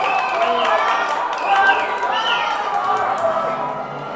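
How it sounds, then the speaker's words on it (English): New Prague fans cheering at a hockey game, a steady roar of crowd noise from the stands filling the whole stretch with shouts rising and falling. "I don't know what the New Prague fans are cheering"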